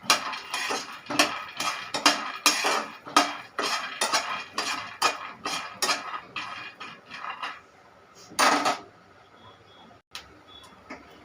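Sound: roasting peanuts in a pan while stirring

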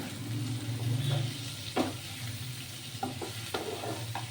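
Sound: stirring water spinach (kalmi shak) with potato, salt and turmeric in pan

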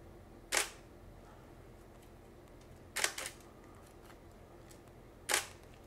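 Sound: Nikon D500 camera shutter firing in quiet mode

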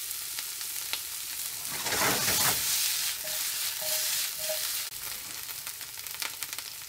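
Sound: red onion, garlic and cauliflower frying in a pan

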